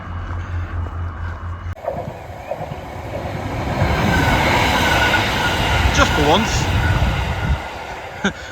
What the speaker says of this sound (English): there is actually a train on my route.